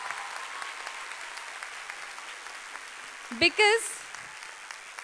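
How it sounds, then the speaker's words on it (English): A school annual day audience in India claps for itself, a moderate, steady patter of applause running throughout, briefly interrupted by a short spoken word from a nearby voice. "I want all of you to clap loudly for yourself"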